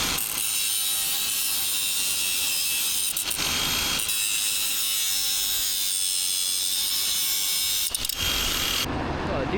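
Power cutting through fibrous wood of a concrete-filled tree, a loud, harsh, continuous grinding rasp held close, with a few brief dips in intensity.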